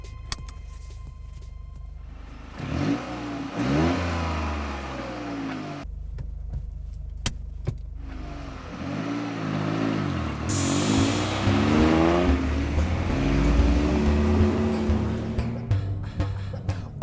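A Toyota GR Corolla's engine starts and revs up, then pulls away with rising and falling acceleration, loud and close, the pitch climbing through gear changes.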